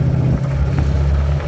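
Steady low engine rumble and road noise inside a car during a hitched ride near an Appalachian Trail trailhead, continuous and fairly loud with no voices.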